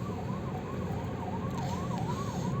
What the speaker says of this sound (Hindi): एम्बुलेंस ही है ना, आवाज़ तो आ रही है।